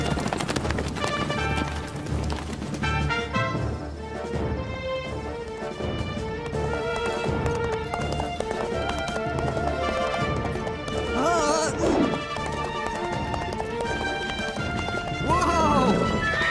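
A horse gallops with rhythmic hoofbeats, under dramatic orchestral music and voices speaking in an animated historical cartoon, with a brief crash near the end.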